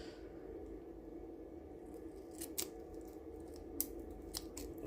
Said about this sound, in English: I'm just going to trim those pieces of sellotape off.